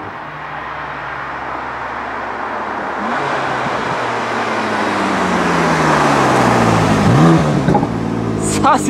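A BMW with a modified exhaust does a burnout launch, its engine note rising steadily and growing louder over several seconds as it accelerates away amid roadway noise, with a sharper burst near the end.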